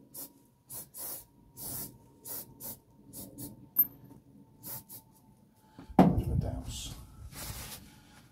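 A short hiss of GT85 aerosol lubricant spray bursts out near the mic, following a series of quiet, rhythmic taps and faint rustling, during home nickel plating.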